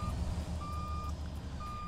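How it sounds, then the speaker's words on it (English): Reversing beeper on a fire truck in the Roblox video game: a steady tone pulsing in regular beeps, loud and close over a low engine rumble, no voices. "We got the backup beeper."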